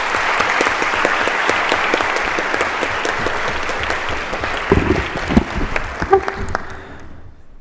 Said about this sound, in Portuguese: Uma salva de palmas a Gabriel Chalita.